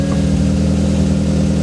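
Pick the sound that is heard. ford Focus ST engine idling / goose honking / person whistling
ford Focus ST engine idling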